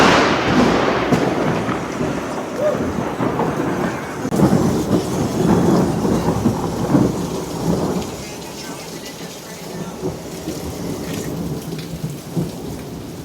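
A heavy thunderstorm pours rain hard and steadily while loud thunder cracks and rolls through, peaking midway then easing into a lower rumble; no one speaks.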